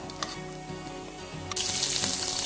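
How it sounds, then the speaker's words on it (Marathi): Grated coconut frying in hot oil in a pan for a veg egg curry, with a soft low bubbling that turns into a loud, steady, close hissing sizzle midway and keeps going. "हे बघा, मी खोबरं तळून घेणार आहे"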